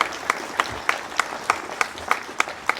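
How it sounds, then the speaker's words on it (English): Applause from an audience at a 100th-year celebration of a scout cabin, heard as a steady run of claps with regular sharp peaks, moderately close and without talk. "Round of applause"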